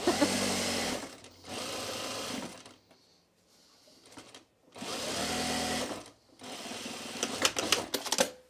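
Electric sewing machine stitching the perimeter of fabric bowl cozies in bursts, two long loud runs with a short pause and a quieter lull between them, close and steady, with no voices.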